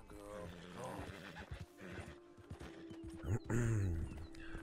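A restless horse in the video game Red Dead Redemption 2 snorts and gives a loud whinny near the end, with hoof clip-clops and people talking around it.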